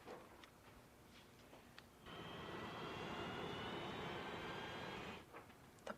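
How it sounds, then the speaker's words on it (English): An airplane engine roar swells in steadily and holds for about three seconds before cutting off, a broad, fairly faint rushing drone heard from nearby. "The plane."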